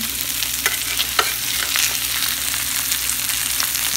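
Salmon fillets with garlic sizzle in a hot pan as a steady close hiss, with a few brief clinks and scrapes from turning the pieces over.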